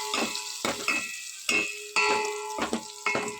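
Coriander powder and turmeric being stirred into tamarind rasam in a pot: a series of spoon strokes scraping and swishing through the liquid in an uneven rhythm, close and clear with no talking.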